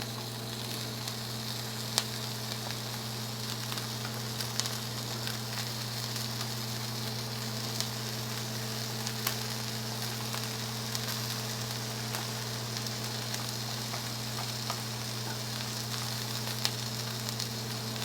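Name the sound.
mushrooms frying in a pan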